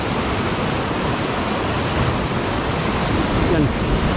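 Ocean waves at sea while fishing from a boat, a loud continuous roar of surf and wash filling the whole stretch, with no clear breaks or talk.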